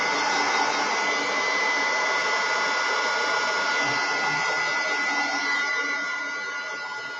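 A hair dryer blowing steadily on wet watercolor paint, a loud continuous close whoosh that eases slightly toward the end.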